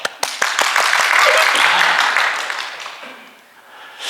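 A church congregation applauds after a special open concert of praise songs, a broad wash of clapping that swells, holds for a few seconds, then fades away to near quiet.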